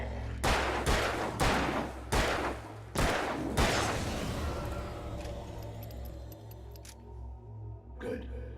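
Handgun shots in the Alan Wake video game: six loud, evenly spaced bangs fired in quick succession, then a quieter stretch with one more sharp hit near the end, set against a low droning background.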